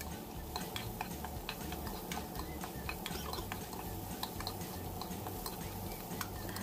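Radish being stir-fried in a pot with a splash of rice water, giving a steady low sizzle with frequent light scraping and ticking from a utensil stirring, close and continuous without talk.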